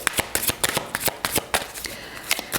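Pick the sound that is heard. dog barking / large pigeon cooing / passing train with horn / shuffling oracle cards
shuffling oracle cards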